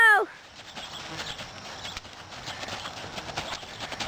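Hooves of a horse loping in a big circle in an arena, a soft patter running steadily throughout at moderate distance, with a voice briefly calling out near the start.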